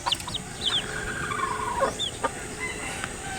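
Breeding chickens clucking in a farm yard, with several short calls and a rooster-like crow rising over a steady ambient hiss, close to moderately near.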